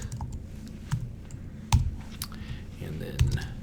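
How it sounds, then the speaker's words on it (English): Computer keyboard typing during a C# ASP.NET programming lesson: a few sharp, scattered key clicks and taps over several seconds, close and moderately loud, with faint background noise. "let me just type here, Chuck,"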